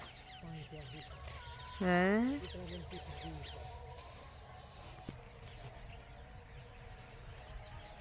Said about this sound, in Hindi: ये देखो भाई पक्षी उड़ रहे हैं सरसम की फलियों के लिए